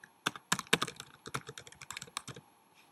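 Keystrokes from a computer keyboard as someone types a URL, a quick close run of crisp clicks in uneven bursts, with no one speaking.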